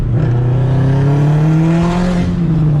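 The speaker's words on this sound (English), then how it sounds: "So, downshift to third. I want you to hit some boost." A 2004 Subaru WRX STI accelerates hard in third gear on turbo boost, its engine note climbing steadily in a loud, close, sustained drone heard from inside the car.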